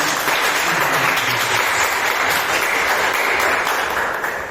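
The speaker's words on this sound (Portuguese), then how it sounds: "dê uma salva de palmas para o Senhor, nosso Deus" Church congregation applauding for God after a Portuguese-language sermon prayer, a steady dense wash of clapping from many hands that holds evenly for several seconds, then begins to fade at the end.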